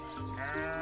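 Cartoon sheep gives a single short wavering bleat, bright and close, standing alone without speech.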